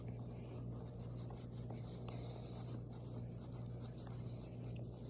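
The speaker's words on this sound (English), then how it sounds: "We're just going to try to erase marker" An eraser rubs over marker on a wolf drawing, producing faint, steady scratchy strokes close up over a low background hum, with no talk.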